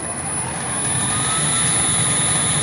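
A jet airplane takes off nearby, heard as a loud, steady roar with a high whine, the volume swelling slightly over a few seconds.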